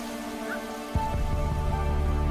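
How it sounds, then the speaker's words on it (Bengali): Summer rain falling in the Kalahari basin, a steady patter that thickens into a heavier, fuller wash after about a second, with no voices. "কালাহারি বেসিনের এক কোণে গ্রীষ্মকালের জীবনদায়ী বৃষ্টি দেখা দিয়েছে"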